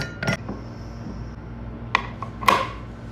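A lid clinks down onto a cooking pot of chicken in a home kitchen: a few bright metallic knocks and rattles, close and fairly sharp, scattered across a quiet background with no talk.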